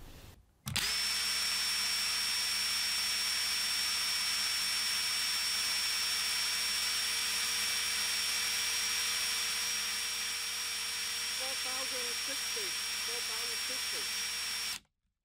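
A Ryobi power tool powered by a Kobalt 24V 4Ah battery runs continuously at full speed as a loud, steady high-pitched motor whine with a constant tone, cutting off abruptly at the end.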